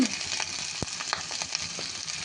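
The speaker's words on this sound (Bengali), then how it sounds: "মশলাটা একটু ভাজা হয়ে গেলে এর মধ্যে দিয়ে দিচ্ছি পটলের খোসাগুলো।" Pointed gourd peels sizzle in hot oil spiced with garlic and whole green chillies, a steady close crackle with scattered sharp pops and light stirring.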